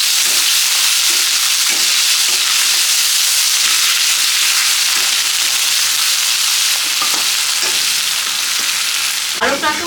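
Potatoes fry in a pan with a loud, steady sizzle and hiss, broken by occasional soft scrapes of stirring and a brief clatter near the end.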